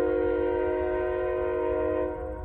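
A train running past near an old iron works ruin in Joliet, Illinois, heard as a loud, steady horn-like tonal drone that holds throughout and eases slightly at the end, with no talking.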